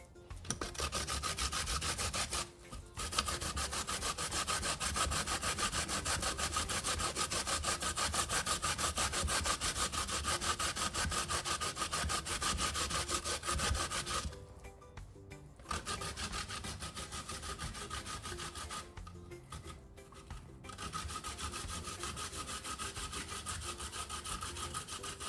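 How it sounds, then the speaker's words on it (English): Sweet potatoes, yam and cassava being grated by hand, a steady close rasping scrape that runs almost continuously, with a few short pauses between bursts of strokes. "I'm just gonna finish grating my potatoes and stuff"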